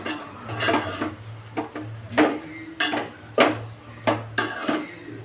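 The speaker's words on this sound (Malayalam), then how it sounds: "ഇതെല്ലാം ഇളക്കി യോജിപ്പിക്കുക." Idiyappam pulao stirred in a metal pan, a spoon scraping and clinking against the pan in repeated close strokes at an irregular rhythm, over a faint low hum.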